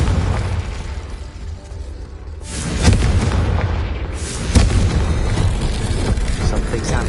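Confringo fire spell blasts in Hogwarts Legacy: two loud booming explosions a couple of seconds apart, each bursting over a rumbling background of game sound effects.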